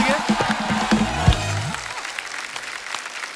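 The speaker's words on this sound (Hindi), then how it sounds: "जोरदार तालियां हो जाए हमारे मेहमानों के लिए।" Studio audience on a TV comedy show bursts into loud applause and cheering, dense clapping with a few shouts, fading gradually over a few seconds while music or voices sit briefly underneath.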